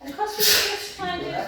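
A single sharp sneeze bursts out during a Pilates class on balance and core strength, followed at once by a voice talking close by.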